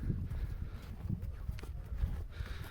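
A big stallion walks nearby, its hooves clip-clopping in a faint, uneven rhythm on the ground while voices murmur in the background.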